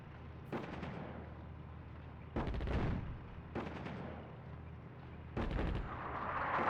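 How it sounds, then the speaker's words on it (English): Artillery fire in the North Africa strategy game Attack at Dawn: four heavy booming blasts at roughly even intervals, each a loud broadband thump over a steady low rumble of battlefield ambience, with no voices. "they're firing artillery on us"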